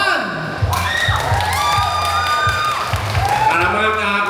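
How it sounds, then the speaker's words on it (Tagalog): A crowd in a loudest-applause contest claps, cheers and whoops continuously for several seconds, loud and close, with shouting voices mixed in. "Ang pinakamalakas na palakpakan, malalaman natin kung sino ang mananalo."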